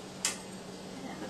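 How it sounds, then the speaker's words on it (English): A magnetic lid lifter snaps onto a metal canning lid during cherry canning, giving a single brief, crisp metallic click near the start, followed by a quiet room. "Take our lid lifter and grab a lid."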